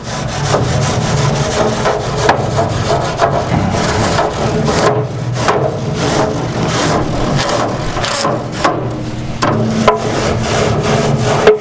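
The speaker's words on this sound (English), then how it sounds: "And I am using a wire brush." A wire brush scrubs the hot top grate of a Lone Star Grillz offset smoker with steady, rough back-and-forth scraping strokes, close and loud, continuing without pause and with no talk.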